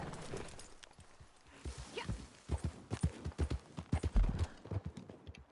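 Horse hooves clip-clop steadily in Red Dead Redemption 2 as a ridden horse walks and then picks up pace, the rhythmic thuds growing louder and closer over faint ambient game sound.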